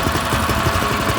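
A small drift trike engine runs steadily in a short, loud, close burst, with a rough, even idle chugging and vibration throughout and no talking.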